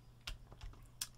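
Keys on a ZX Spectrum computer keyboard are pressed during a game of Elite, giving three or four faint, separate clicks over a quiet background.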